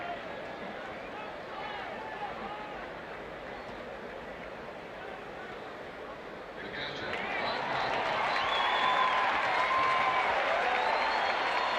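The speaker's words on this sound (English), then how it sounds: "A little cheer in the background that you may be hearing is the fact that they have changed that ruling from a double to an error on Kirk Gibson" A baseball stadium crowd at a White Sox at Royals game murmurs at a distance, then swells into cheering and applause about seven seconds in after a scoring change to an error.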